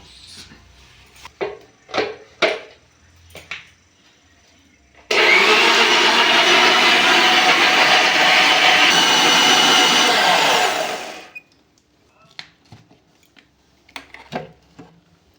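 Electric kitchen mixer grinder blending tomatoes into a paste, a loud steady whirring roar running about six seconds before winding down, with faint kitchen clatter before and after.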